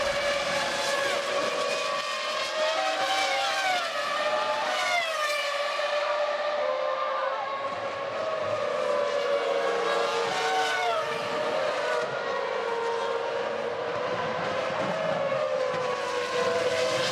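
Formula One cars racing at Monza in the 2001 Italian Grand Prix, high-pitched screaming engines rising and falling as cars pass and shift gears, loud and continuous throughout.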